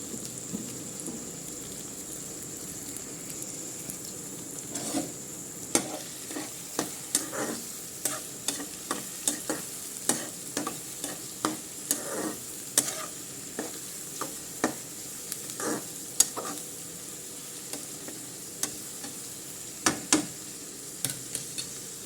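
Thinly chopped onions sautéing over low heat in a pan for egg curry, a steady close sizzle with regular spatula scrapes and clicks recurring every second or so, and nobody speaking.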